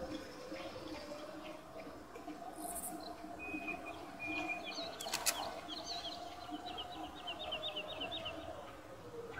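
Birds chirp in the Far Cry video game, with short, repeated twittering calls over a steady outdoor ambience and a brief rustle of wings.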